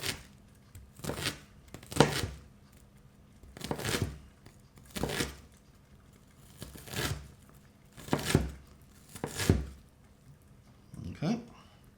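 Onion and garlic are chopped with a knife on a board in a kitchen, a series of about eight crisp, evenly spaced chopping bursts close to the microphone, separated by quiet pauses.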